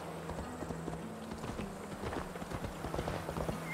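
Horse hooves clip-clop steadily through the whole stretch in Assassin's Creed Valhalla, a regular mid-level trotting rhythm over a constant game ambience, with no talk over it.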